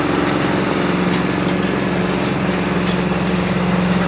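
A 1981 325-horsepower tractor runs out in a field, its engine giving a loud, constant drone with a steady low hum and no breaks.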